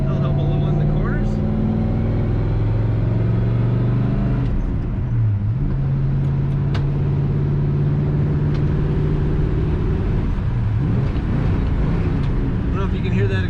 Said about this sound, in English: I don't know if you can hear that exhaust.